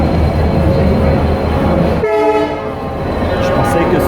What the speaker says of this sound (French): il y a énormément de monde dans la gare